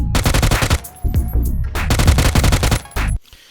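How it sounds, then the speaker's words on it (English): Loud edited gunfire sound effects, rapid machine-gun bursts of sharp close shots in dense volleys, separated by brief pauses and ending abruptly. "See, the guns are a little bit loud there"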